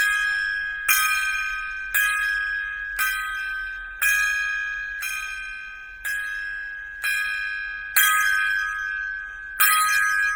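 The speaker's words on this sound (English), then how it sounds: "we're going to give Chuck Norris an 11 gong salute." A gong is struck repeatedly as a salute, ten bright, ringing strikes spaced about a second apart, each decaying before the next, loud and close with no talking.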